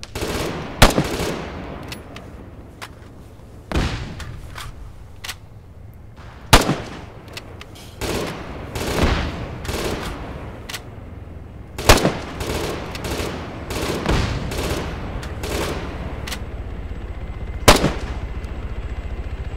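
Sharp, loud gunshots in the video game ArmA 3 ring out at irregular intervals, some single and some in quick bursts, over a steady low background rumble.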